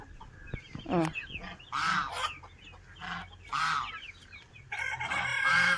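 A rooster crows in several loud, drawn-out calls spaced a second or so apart, close by, with clucking fowl and faint background noise between the calls.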